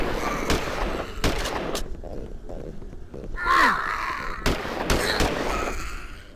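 Gunfire from a vampire video game, heard as scattered sharp shots and short bursts in close, loud succession, with a player's voice reacting between them.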